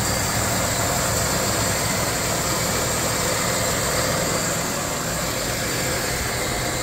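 A Cadillac DeVille 4.9 engine idles after a cold start with a steady, raspy drone and hiss that runs unbroken throughout.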